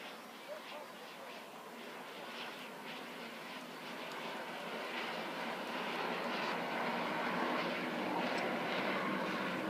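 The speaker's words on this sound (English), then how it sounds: "it's a high alpha, slow speed fly past." Jet aircraft making a high-alpha, slow-speed fly past at the 2013 Blackpool airshow, a broad engine roar that builds steadily and grows louder over the whole stretch, with faint crowd or commentary underneath.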